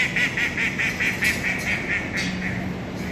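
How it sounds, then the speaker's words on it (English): A run of ducks quacking in quick repeated bursts, fairly close, on the San Antonio Riverwalk, over a steady outdoor background hum. "Ooh, and lots of ducks right there."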